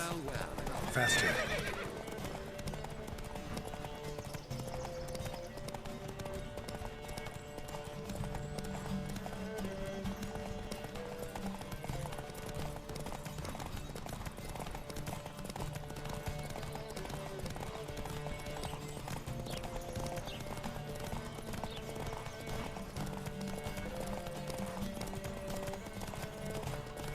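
Horses gallop in a race in The Witcher 3, a steady rapid clip-clop of hooves with a whinny near the start, continuous and close under game ambience, with faint voices at times.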